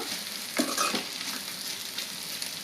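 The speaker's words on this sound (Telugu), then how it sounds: "అడుగు అంటకుండా ఉండాలని మధ్య మధ్యలో కలుపుతూనే ఉన్నాను" Cabbage and chana dal curry stirred in a pan, a quiet continuous sizzle with a few soft scraping strokes near the start.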